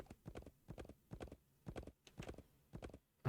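Horse hooves clip-clop in a steady galloping rhythm while riding in the Wild West game Wild West Dynasty, close and clear in repeated bursts, ending in a short thump.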